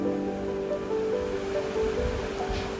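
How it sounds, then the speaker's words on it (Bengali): Spiced potatoes deep frying in hot oil, a steady, even rushing sizzle that holds throughout at moderate loudness with no voices. "তাই আমি আলুটার মধ্যে এই মশলাগুলো দিয়ে আলুটাকে ডিপ ফ্রাই করে ভেজে নেব।"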